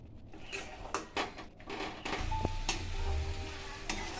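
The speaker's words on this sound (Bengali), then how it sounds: "সব দিয়ে আমি এটাকে একটু কষিয়ে নেব" Spices frying in a pan with Kashmiri chilli powder for a Bengali prawn and poppy-seed dish, a steady close sizzle broken by several stirring scrapes and clinks against the pan.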